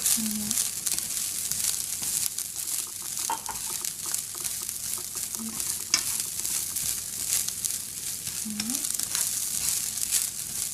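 Onions and chives sizzle steadily in a hot pan for Cantonese fried rice, a continuous bright hiss with occasional stirring scrapes and a few short low tones.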